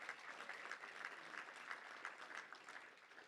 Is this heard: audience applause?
yes